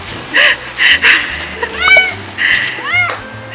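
A Chinese cat on a trip to Kanchanaburi, Thailand, meows loudly and repeatedly in short, insistent cries at close range, with a faint human voice in the background.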